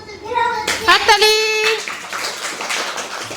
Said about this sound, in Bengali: হাততালি, খুব সুন্দর হয়েছে